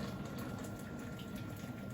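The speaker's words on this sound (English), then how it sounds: "pour that carefully over your cube" Boiled kettle water poured carefully over a chicken stock cube in a mug, giving a steady, continuous liquid gush that holds at an even level for the whole stretch.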